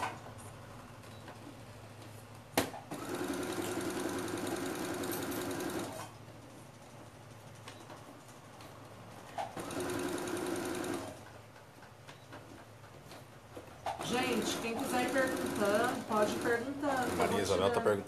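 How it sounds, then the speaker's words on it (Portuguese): Sewing machine stitching fabric for a sheep-themed craft project, running in steady humming bursts with pauses between them, while someone talks in Portuguese over and between the runs. "Enquanto eu costuro, eu respondo."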